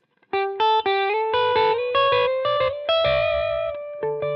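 Harley Benton Fusion T electric guitar notes ring out one after another, heavily processed with distortion, chorus and echo effects, giving a shimmering, metallic, ring-modulator-like tone.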